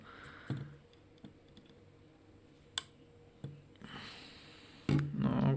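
On a VW Golf 4 with failing low-beam headlights, an electrical contact clicks against metal in a handful of sharp, separate snaps with quiet gaps between, plus some handling rustle near the end.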